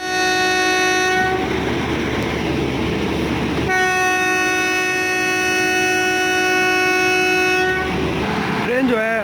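The Hazara Express passenger train departs a station for Karachi, sounding a long, loud, steady horn in two sustained blasts over rumbling wheels and engine noise, close by.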